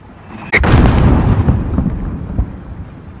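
A single heavy mortar blast in Call of Duty: Modern Warfare lands with a sharp crack and a long rolling boom that fades over a few seconds, loud and close.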